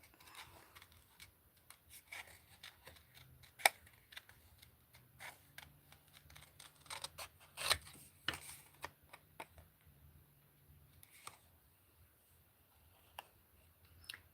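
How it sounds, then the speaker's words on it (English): Scissors fussy-cut around shapes in paper, producing small irregular snips and clicks up close, quiet and intermittent, with soft rustling as the paper is turned. "Turn the paper, not the scissors."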